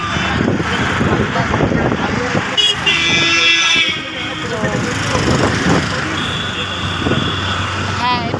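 A convoy of cars crosses a bridge over the Matla River in the Sundarbans, horns tooting several times over steady road and engine noise while someone talks nearby.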